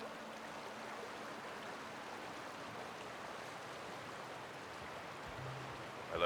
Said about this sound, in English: we're right next to the river and get to see this gorgeous waterfall